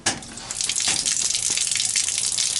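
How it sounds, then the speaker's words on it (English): Water from an RV's 64-gallon fresh water tank drains through an opened drain valve in a steady, loud, close rushing gush that starts abruptly and holds without a break. "Open my drain valve"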